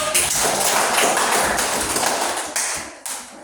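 A class of elementary school students claps for a group of classmates, a dense, close burst of many small hands that holds steady, then thins out and stops with a few final claps.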